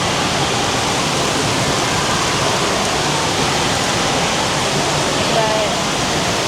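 Steady, dense rush of water splashing at a waterpark play structure, loud and constant throughout with no pause, filling the whole clip.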